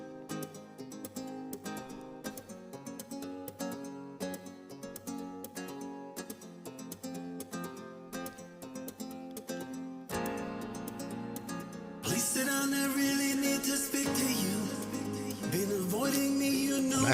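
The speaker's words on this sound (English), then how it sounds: "And so I took that basic chord structure and I ran some guitar chords" Chopped, rhythmic flamenco-style guitar chords run through a Latin tropical remix, starting as sparse, steady strums, then building as fuller, louder instrumentation swells in toward the end.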